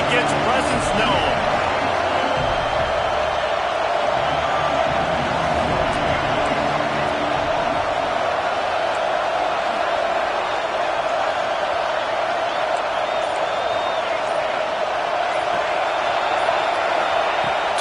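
A home crowd roars loudly and steadily throughout an American football game, a dense sustained wall of cheering with whoops rising over it, while a commentator speaks on top.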